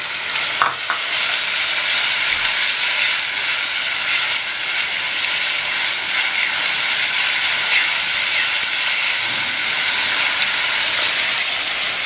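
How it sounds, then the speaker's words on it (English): Onions sizzling in hot oil for Schezwan sauce, a loud, steady, close hiss of frying that carries on for the full length without a break. "So now you can see it has started sizzling."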